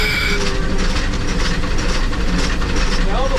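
Loud, continuous rumble and clatter of a steam train on the Yosemite Mountain Sugar Pine Railroad running close by, with rattling wheels and a brief squeal near the end.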